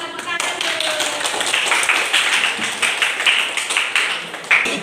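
Classroom of students clapping for a classmate, a dense, steady patter of many hands through the whole stretch with some chatter mixed in.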